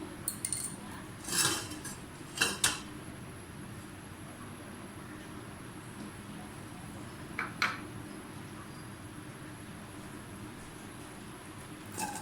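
Three to four tablespoons of cooking oil are spooned into a pot for chicken jalfrezi, giving a few brief metallic clinks, two close together early and one later, over a constant background hiss.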